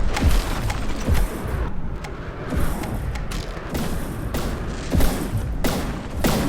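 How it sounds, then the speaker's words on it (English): Repeated heavy booming blasts of a custom cannon in a video game, at irregular intervals over a dense rumbling backdrop of battle noise, loud and close. "We can hear the custom cannon is firing"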